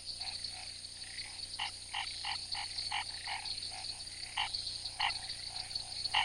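Frogs call at night in the Pantanal rain, a chorus of repeated short croaks in irregular rhythm over a steady high insect-like drone and rain hiss, moderately near.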